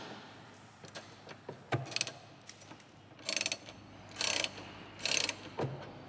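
Ratchet wrench clicking on bolts during suspension work on a Ford Mustang GT350, heard alone as several separate bursts of close, bright ratcheting with short pauses between them.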